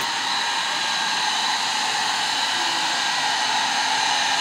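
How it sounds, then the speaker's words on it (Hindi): A hair dryer runs steadily and loudly at close range throughout, a continuous whooshing hiss in a home after a shower, with no talk over it. "और ये ड्रायर बंद कर दो बेटा"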